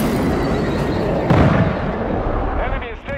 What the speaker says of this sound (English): Requesting air support. This is Vulture 6-1. Bombing run is inbound. Danger close.